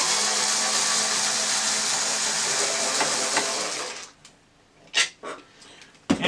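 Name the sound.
screw gun removing Phillips screw from Janome 2206 sewing machine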